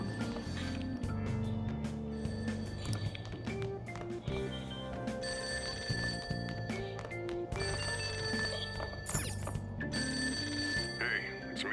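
A telephone rings inside the video game Persona 5 Royal, its repeated trilling bell carried over continuous in-game background music at steady loudness.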